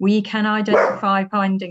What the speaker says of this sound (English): sorry, sorry about the dog